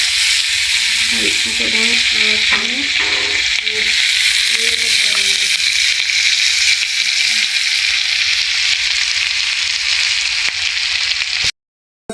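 Young jackfruit (polos) curry mixture frying on a stove, a steady loud sizzle throughout with a brief short exchange of speech over it, cutting off abruptly at the end.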